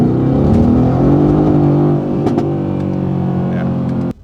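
An AMG twin-turbo V8 fitted with a Borla exhaust with ATAK baffles revs hard on takeoff, its rising harmonic roar close and loud, then easing to a steady drone before cutting off abruptly.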